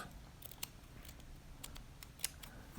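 Scissors cutting lace off hair extension wefts, several quiet snips scattered over a soft room hush, faint and close, with a couple of sharper clicks near the end and no talk.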